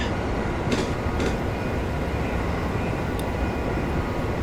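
Steady low rumble of a 701 Series train running on a rising main line in Train Simulator Classic, a continuous even drone with a couple of brief hissing bursts and no talk.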